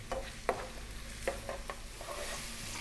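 Onion and garlic sizzle in a pan just above medium heat, a steady close frying hiss broken by a few sharp stirring scrapes, with no talking.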